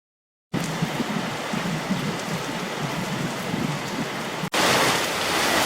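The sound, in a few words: heavy rain falling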